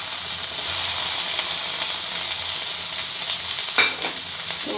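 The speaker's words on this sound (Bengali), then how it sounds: "তো পেঁয়াজ ক্যাপসিকামটা হালকা ভাজা হওয়ার পর তারপর আমরা পকোড়াগুলো সব এর মধ্যে দিয়ে দিলাম" Onion, capsicum and pakoras stir-frying in a pan for chili chicken, a loud continuous sizzle and hiss close by, broken near the end by a sharp scrape and clatter of a stirring utensil.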